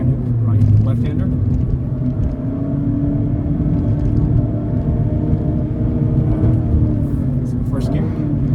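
A 2022 Mazda MX-5 Miata RF Club Package with Recaro seats, BBS wheels and Brembo brakes drives a switchback canyon road, its engine giving a steady low drone with continuous road rumble and no break.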